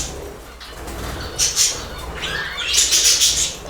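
Pet budgerigars squabble near an old bath pool, sharp chirps and scolding calls mixed with bursts of wing flapping, close by and lively.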